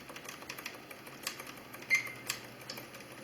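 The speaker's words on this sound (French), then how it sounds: "j'appuie à toute vitesse sur le 12" A computer keyboard's F12 key is tapped quickly over and over while a PC boots, a quiet run of light clicks in an uneven rapid rhythm, one press landing a bit harder.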